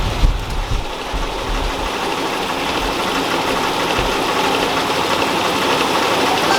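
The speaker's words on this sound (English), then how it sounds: "We're going to apply the trans brake and test it in first gear." Engine on a dynamometer running a 727 transmission with the trans brake applied in first gear for a launch test, giving a steady, loud, continuous mechanical roar with a few low thumps near the start and no talk.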